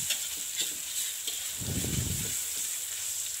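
Dry Indonesian spice paste for a sweet-spicy green chili mangleng stir-fried in a pan, giving a soft continuous sizzle with a few scraping stirs in the middle, moderately close and without any talk.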